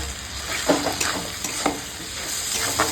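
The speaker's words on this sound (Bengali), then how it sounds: "লবণ দিয়ে দিলাম শুকনো লঙ্কার গুঁড়ো জোড়া হালদি গুঁড়ো দিয়ে এখন মশলাটা কষিয়ে নেব" Spice masala with salt, dried chilli powder and turmeric frying in a kadai, a close steady sizzle punctuated by frequent brisk spatula stirs and scrapes.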